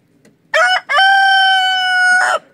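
A rooster crows once, close and loud, on a country farm: a short opening note, then a long sustained cry of nearly two seconds before a brief drop-off, with no talking over it.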